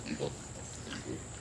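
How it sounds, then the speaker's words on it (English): Baby pigs on a farm grunt in a few short, low bursts, fairly close, amid outdoor background noise with voices faintly present. "There's the baby pigs."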